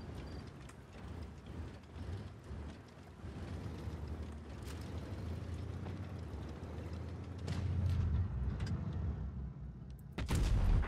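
Tank cannon fire in the mobile game World of Tanks Blitz during a ranked battle, with a low rumbling engine bed and sharp, loud shot bursts near the end, no talk.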